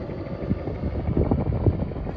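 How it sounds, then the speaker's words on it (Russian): A helicopter passes overhead above a riverside embankment, its rotor producing a low, rapid chopping thump that stays steady and moderately loud through the brief moment. "Вертолетик."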